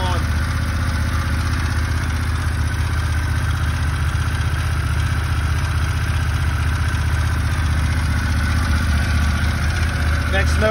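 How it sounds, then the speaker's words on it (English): A Harley-Davidson Pan America 1250 Special motorcycle engine idles steadily up close, a loud continuous low rumble with a mechanical clatter that holds even throughout. "So now let's turn the ignition on and start the bike."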